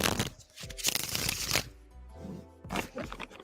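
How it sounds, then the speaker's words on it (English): Tarot cards being shuffled by hand in a quiet room, soft riffling and flapping bursts in an uneven rhythm, close but faint. "let's shuffle for your next question"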